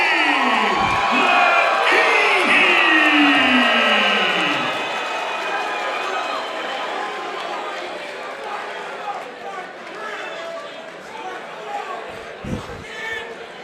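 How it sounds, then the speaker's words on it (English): A lively crowd at a Shamrock FC fight night in St. Louis cheers and whoops, loudest at the start and then settling into a steady roar behind the arena noise. "there are some people in the crowd who are pumped up for this fight. We have a lively crowd."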